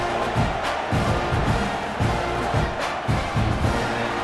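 Stadium crowd at a Texas A&M football game in a video game, a loud, steady roar of many voices with rhythmic swells, heard from the stands.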